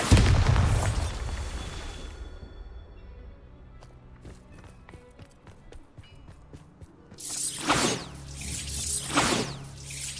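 A Bombarda spell explosion in Hogwarts Legacy gives a loud booming blast at the start, followed by quieter clatter and footsteps, then a second cluster of heavy bursts near the end.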